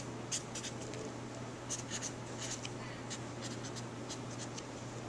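Marker or pen writing "no ink" on a chipboard printing plate, a soft scratchy scrawl in short bursts over steady low hum, close and faint.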